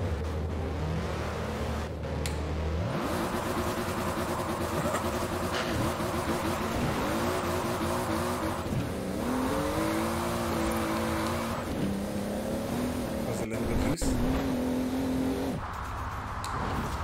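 A BMW M2 Competition in the Forza video game revs hard through the gears, its engine pitch rising and falling repeatedly while tires squeal and skid in drift practice, loud and continuous throughout.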